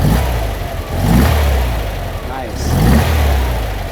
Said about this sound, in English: Let's hear it snap the throttle a little bit.